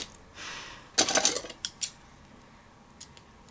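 Scissors snip a small piece off a craft die cut, a few quick crisp cuts followed by light clicks, close and fairly quiet with no talking.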